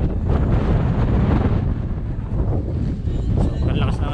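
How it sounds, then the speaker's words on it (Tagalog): Strong, gusty wind buffets the microphone outdoors in a loud, continuous roar that rises and falls, as a drone is about to be launched, with no talk over it. "Sobrang lakas ng hangin."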